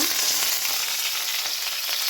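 Mustard seeds and curry leaves frying in hot oil, a dense, loud, unbroken crackling sizzle heard close and alone, with no talking.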